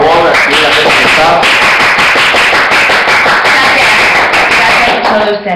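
Crowd applause at a Lucha Libre AAA wrestling event, a dense, loud, steady wash of clapping with cheering voices mixed in, continuous for several seconds.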